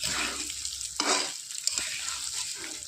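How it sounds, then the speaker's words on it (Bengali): Gobindobhog rice stirred and fried in hot oil with potatoes in a pan for khichuri, a loud steady sizzle broken by scraping stirs of a spoon close by. "চালটাও একটু তেলের সাথে কী করবো, নাড়াচাড়া করে একটু ভেজে নেব।"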